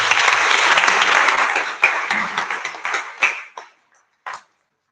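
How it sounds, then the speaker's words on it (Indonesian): Church congregation applauding at a Christmas Eve midnight mass, a loud full burst of many hands that thins into scattered claps and dies away, ending with a last short patter. "Tepuk tangan buat kita."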